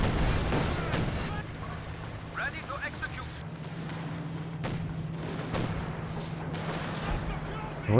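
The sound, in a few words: artillery barrage in video game Company of Heroes 2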